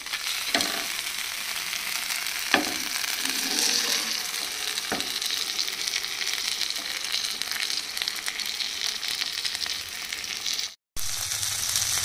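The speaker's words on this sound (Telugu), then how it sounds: "ఇప్పుడు మనం ఫ్రై చేసేసుకుందాం." Pandugappa fish fries in hot oil, a loud continuous close sizzle with a few sharp clatters and pops early on and a brief cut near the end.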